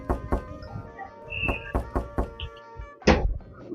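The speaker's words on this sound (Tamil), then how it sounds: "யாரோ கதவு தட்டுறாங்க பாரு." Someone knocks on a door with a series of sharp, uneven raps, close and fairly loud, ending in one heavier thud.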